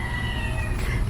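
A cat gives a short meow over loud low-frequency background rumble and noise. It is brief and partly masked, and no one talks.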